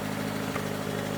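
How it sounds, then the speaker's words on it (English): Car engine idling on a cold start through a Monza exhaust, a steady, fairly loud low rumble with an even, continuous drone and no revving. "that's how the exhaust sounds"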